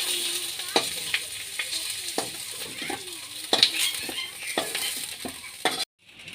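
Boiled potatoes frying in mustard oil in a wok, a steady close sizzle with repeated stirring scrapes and clinks throughout, ending abruptly in near silence.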